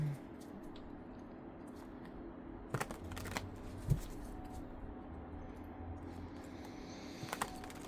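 A tarot card deck is handled and shuffled quietly nearby, soft riffling and a few light taps and clicks scattered over a faint, calm room.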